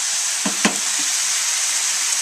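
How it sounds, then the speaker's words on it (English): Shrimp sizzling in a hot pan with an orange ginger glaze, a loud steady hiss of frying close by, broken by a few soft clacks of a utensil against the pan early on. "when you put it in the pan like this, it caramelizes and will kind of do this really nice glaze"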